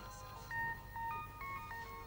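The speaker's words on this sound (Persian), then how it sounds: "من فکر کنم تلفن منه" Phone ringtone of short electronic tonal beeps in a quick melodic pattern, fairly faint and indoors, repeating several times over a low room hum.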